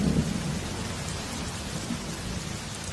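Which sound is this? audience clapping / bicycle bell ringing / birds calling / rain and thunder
rain and thunder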